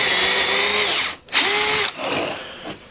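A power drill driving screws while fitting raised floors in a Kawasaki Ridge crew side-by-side, two loud whirring bursts with pitch dropping as each screw seats, then a rougher third burst.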